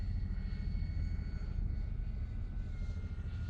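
A steady propeller engine drone of a small E-flite Timber X remote-control airplane flying nearby at night, constant and moderately loud throughout.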